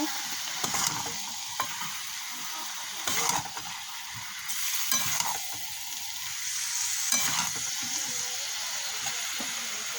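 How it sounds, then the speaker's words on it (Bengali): Turmeric is stirred into food sizzling in a pan, with a steady frying hiss broken by several scraping strokes of a spoon against the pan. "এদিকে হলুদটা দিয়ে দিচ্ছি, একটু এটা নেড়ে নেব।"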